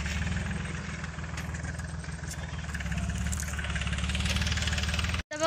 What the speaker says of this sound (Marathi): हे ट्रॅक्टर आता थांबणार आहे